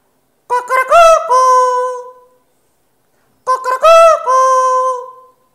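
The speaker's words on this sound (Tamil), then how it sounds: "கூவியது சேவல்" A rooster crows twice, each call a loud, clear, drawn-out cry, separated by a stretch of silence.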